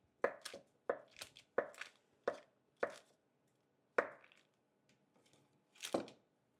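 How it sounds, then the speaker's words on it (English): Knife chopping pumpkin on a cutting board: a run of crisp, close thuds in quick succession, then a pause and a few more spaced cuts, with no talking. "slicing it down the long way, flipping it, slicing it down the long way, and then cross-cutting it"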